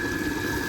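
Water poured by the jugful into a cooking pot while making tomato bath, a steady close rush of liquid with a faint high tone running throughout.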